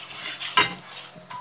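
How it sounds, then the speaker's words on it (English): A spoon scraping and stirring slime in a bowl, soft rubbing strokes with one sharper scrape and a faint clink, close and alone without talk. "You gotta stir it until smooth"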